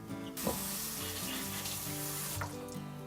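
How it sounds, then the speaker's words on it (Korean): Tap water runs steadily into a sink, splashing and gurgling as seafood parts scrubbed with coarse salt are rinsed under the stream, with a brief clatter near the start and another later on. "물로 헹궈내시면 됩니다"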